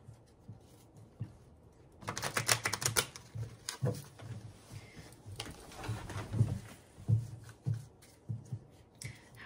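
Cards are shuffled by hand before a card reading, a close string of quick papery riffles and taps that starts after a quiet moment and keeps going in uneven bursts.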